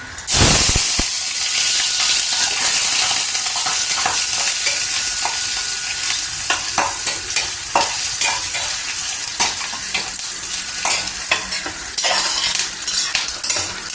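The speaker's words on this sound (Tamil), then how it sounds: "இந்த பக்கம் கடாயில் எண்ணெய் வச்சுருக்கேன் எண்ணெய் நல்லா சூடாயிடுச்சு இப்போ இந்த பன்னீர் அதில் போட்டு" Paneer cubes fry in well-heated oil in a kadai, giving a loud, close, continuous hissing sizzle with intermittent metallic clinks of a spoon stirring through it.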